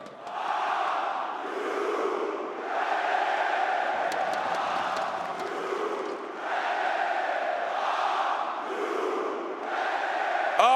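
A packed esports arena crowd at the IEM Cologne 2022 grand final between NAVI and FaZe Clan roars loudly in rhythmic waves of chanting and cheering, sustained throughout.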